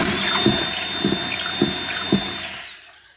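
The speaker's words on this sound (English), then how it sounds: "You'll just need a 7/32 drill bit, and we're going to go right to the mark. We're going to drill through." A power drill with a 7/32 bit whines steadily at close range, drilling into a wall, its motor pitch holding while the bit grinds through material, then spins down and stops.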